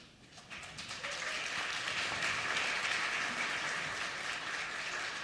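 Gallery visitors at a legislative session applaud, a dense sustained patter of many hands building quickly and holding steady.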